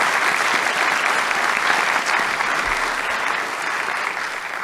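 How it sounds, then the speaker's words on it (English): An audience at a live debate on Christ's resurrection claps for the two debaters, a steady, full round of applause that holds evenly throughout with no talk over it. "Round of applause for a difficult section there."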